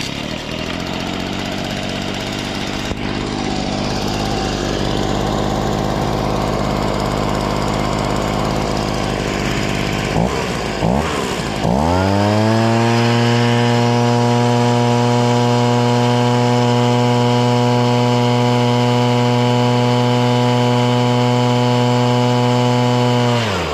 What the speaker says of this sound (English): so we'll see what this leaf blower will do